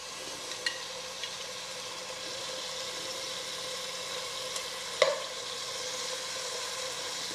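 Tomatoes being stirred into a pot of golden lentil soup, giving a soft, steady sizzle and bubbling with a few faint clinks and one sharper knock from the spoon against the pot, no talking.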